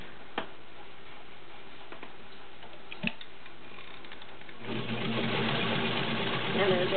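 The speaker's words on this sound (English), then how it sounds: "so I just sewed a regular zigzag" A New Home 552 sewing machine runs a zigzag stitch with a steady, quiet mechanical ticking that grows noticeably louder and busier partway through, close to the microphone.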